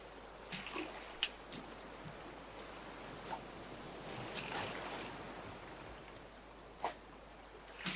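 Ocean waves in the survival video game Raft wash steadily around a floating raft, a continuous soft surf and wind hiss with a few brief splashes and knocks rising above it.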